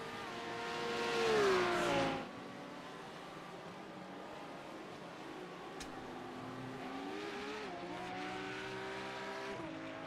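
Race car engines in a sim racing game at Zolder: one car revs up loudly and passes close early on, then other engines whine and shift gears more faintly at a distance.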